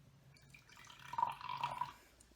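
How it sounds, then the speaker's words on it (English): Mtn Dew VooDew soda is poured into a glass, a faint, close trickle and splash that swells briefly and then tapers off. "So I'm going to pour a little bit into this glass."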